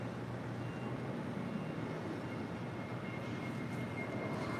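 Delta Boeing 747-400 departing runway 25 Right at LAX, a distant broad jet roar holding steady and even throughout, no voices over it.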